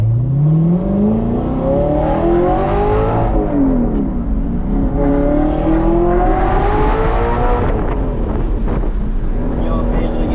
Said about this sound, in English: if you just kind of barely tap the gas, you'll get almost like a burble from it